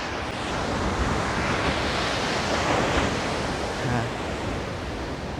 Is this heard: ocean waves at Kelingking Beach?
yes